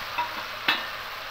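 A spoon stirs ground turmeric, cumin, Kashmiri chilli powder and garam masala into soya chunks and potatoes in a frying pan, giving a soft scraping swish over a faint steady sizzle, with two brief scrapes standing out.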